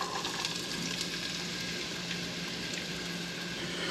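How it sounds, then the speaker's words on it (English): A whole white onion sizzles in a hot pan beside arepas, a steady dense crackle and hiss holding at an even level throughout with no talk over it. "let's throw in our onions in the back"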